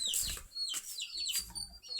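Chickens cluck in a farm shed at a village home, with several short, sharp calls close by and no talk.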